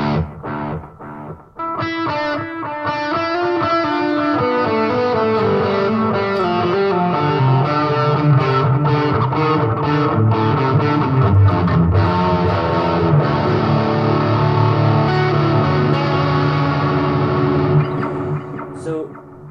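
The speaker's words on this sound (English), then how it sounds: "it's actually a tape delay echo that's selected at the moment" Electric guitar plays chords and lines through a tape delay echo pedal, each note repeating in trailing echoes that smear together into a dense, continuous wash.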